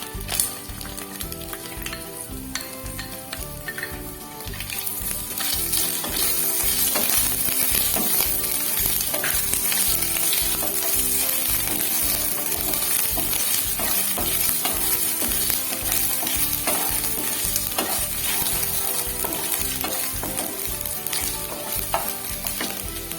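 Chopped onion frying in a hot pan, with a steady sizzling hiss and a regular beat of stirring strokes running throughout, growing louder after the first few seconds.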